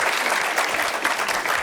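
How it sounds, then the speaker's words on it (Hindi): Stand-up comedy audience clapping steadily and loudly throughout, a dense continuous round of applause with no talk over it. "एक बार ताली बजाओ भाई के लिए यार."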